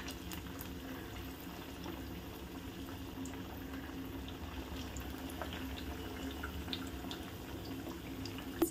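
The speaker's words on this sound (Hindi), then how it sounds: "अशा पद्धतीने आपले साबुदाणे वडे फ्राय होत आहेत।" Sabudana vadas deep fry in hot oil with a quiet, continuous bubbling hiss and tiny scattered pops, steady throughout and close by.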